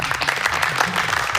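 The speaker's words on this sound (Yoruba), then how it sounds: "Ó yẹ pàtẹ́wọ́ fèmí náà." A short burst of clapping during a Yoruba children's quiz game show, a dense patter of hands from a small group, fairly loud and steady through the whole moment.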